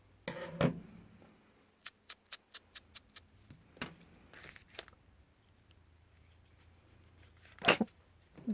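Scissors cutting down a paper playing card, a run of about six crisp, evenly spaced snips up close, with a few louder handling knocks and rustles before and after in an otherwise quiet room.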